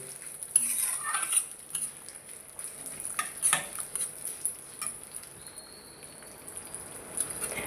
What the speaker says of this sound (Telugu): జస్ట్ ఇలాగా కొంచెం ఆయిల్ వేసేసి రెండు కలిపి వేయించేయండి